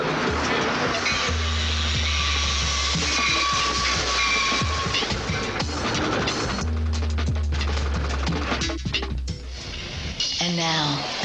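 A commuter train rumbles loudly and steadily throughout, with hissing steam-like noise, a brief high whistle-like tone, and low mechanical drone that rises and falls, while voices murmur faintly underneath.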